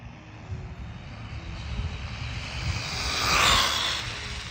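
A Jetwood JC14EP RC car, an MJX clone, runs its electric motor hard under throttle on a 4S battery with a budget ESC, giving a steady, loud whine that rises and swells toward the end.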